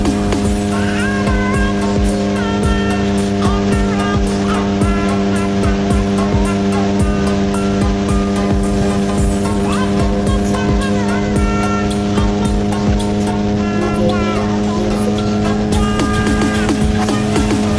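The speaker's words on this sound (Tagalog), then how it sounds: "Ayun na, dumaan na yung habal-habal." Honda XRM and Suzuki Raider motorcycles pass at speed on a road, a steady loud engine drone with strong harmonic hum throughout, close and continuous with no talk.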